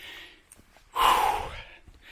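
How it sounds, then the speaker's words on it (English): A hiker breathes hard during a steep climb on a long-distance trail: one loud, close exhale in the middle, with quieter panting before and after it. "Even though you can hear me breathing hard."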